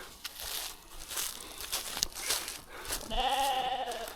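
Sheep bleat nearby in a grassy field in Corrèze, France, one clear wavering bleat standing out near the end over rustling outdoor ambience.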